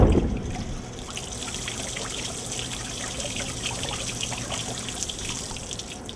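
Water from a sump pump pouring into a bucket, a loud, continuous splashing trickle that starts abruptly and holds steady throughout.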